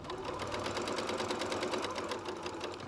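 A sewing machine stitching fabric for homemade cleansing cloths, a fast steady mechanical rattle of needle strokes running continuously at close range, with no talking.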